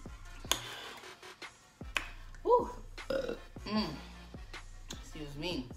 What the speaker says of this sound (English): That burp did not count.